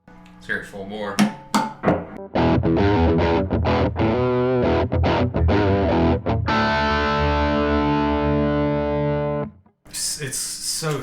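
Electric guitar with a coil-tapped bridge pickup driven hard through a Klon Centaur overdrive pedal at full volume: loud, close, throaty overdriven strums and staccato chord stabs, then a long ringing chord that dies away before a short spoken bit.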